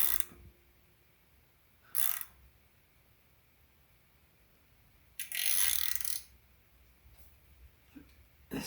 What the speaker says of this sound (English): you just use a cam bolt and you tighten it until it bottoms out